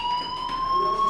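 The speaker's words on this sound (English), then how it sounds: "Hey, do you hear that fire alarm?" A fire alarm rings in the video game Life is Strange, a steady, piercing electronic tone that holds unbroken and loud throughout.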